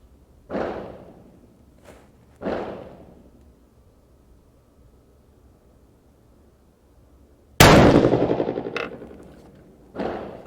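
Rifle gunshots fired with a 1.5 lb trigger, four sharp loud cracks spaced a couple of seconds apart, one especially strong blast with a ringing tail, outdoors with quiet between shots.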